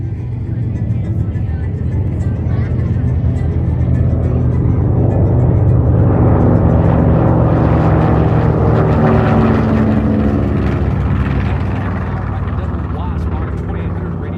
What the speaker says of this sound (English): In the lead, the North American PBJ Mitchell bomber, as accompanied by that of the Grumman F-6F Hellcat.